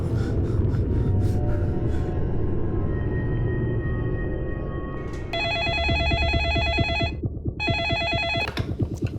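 A telephone rings with bright electronic trills in two bursts separated by a short pause, over a low rumbling background and music, in a TV crime drama.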